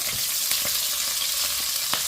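Continuous loud hiss of onion, ginger and garlic frying in hot oil, with a few soft stirring scrapes, and no voices.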